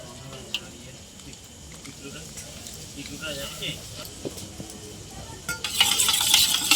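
Yogurt whisked in a bowl for dahi vada, soft scraping and clinking strokes that build into a louder, brighter rapid stirring noise toward the end, close up.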